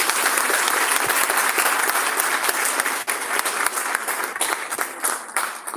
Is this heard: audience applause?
yes